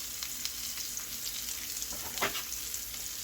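Pork chops sear in a hot pan with a steady, close sizzle and crackle, a brief louder burst of spatter near the middle.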